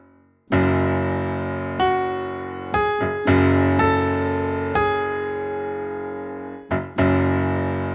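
Piano notes and chords of a song ring out one after another in a slow melodic line, each attack sustaining and fading under the next, with no voices.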